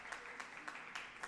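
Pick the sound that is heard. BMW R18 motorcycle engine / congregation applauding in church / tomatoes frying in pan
congregation applauding in church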